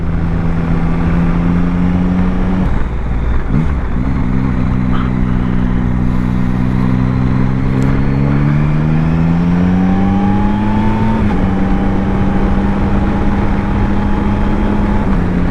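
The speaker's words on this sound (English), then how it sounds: "I'm short shifting at the moment really, because I want to keep the revs below an acceptable thing" A 2024 Yamaha Tracer 9 GT+ motorcycle is ridden on the road, its engine droning loud and close as it climbs through the revs with short gear changes, each shift briefly dropping the pitch before it rises again.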